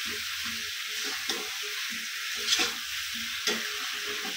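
Chicken curry with potatoes is stirred in a frying pan, with a steady sizzle beneath rhythmic scraping strokes of a spoon and a few louder knocks against the pan. No one speaks.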